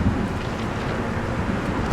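Steady rain falls in Train Sim World 5 on a dreary day at a Long Island Rail Road station with an M3 train, a continuous broadband hiss with a faint low rumble and no talking.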